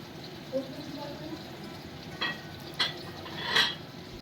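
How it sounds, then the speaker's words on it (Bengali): Potatoes, broad beans and cauliflower fry in a pan with a steady, moderate sizzle, and a few metallic scrapes and clinks of stirring come through under ongoing speech. "এখন বসিয়ে দিয়েছি ভাজাভুজিটাও। আলু ভাজা, শিম ভাজা, কপি ভাজা,"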